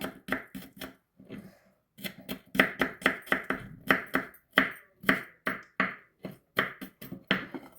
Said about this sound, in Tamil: இதையும் குட்டி குட்டியாக வெட்டி போட்டாச்சு